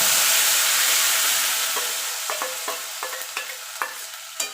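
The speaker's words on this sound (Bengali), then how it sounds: "এখানে আমি একটা টমেটো কাঁচা লঙ্কা আর আদা পেস্ট করে রেখেছিলাম সেটা দিয়ে দিলাম" A paste of tomato, green chilli and ginger hits hot oil with a loud burst of sizzle that fades, then a run of sharp spatula taps and scrapes against the pan as it is stirred.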